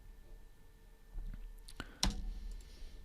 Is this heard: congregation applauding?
no